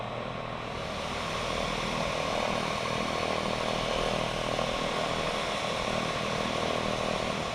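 A simulated aircraft engine in X-Plane 10 runs steadily just after start, a constant loud droning hum with propeller-like buzz, unchanging and continuous with no voices.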